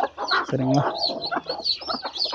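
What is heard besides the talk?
brooding hen clucking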